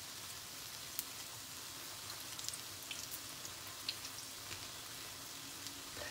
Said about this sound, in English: So we're just gonna continue to fry these.